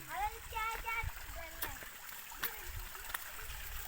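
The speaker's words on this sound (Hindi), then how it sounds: "ये देखें आप, ये पानी भी आ रहा है यहाँ से" Water from a mountain spring trickles and splashes in a stream near a village in Khyber Pakhtunkhwa, a faint steady wash running beneath close voices of adults and children talking.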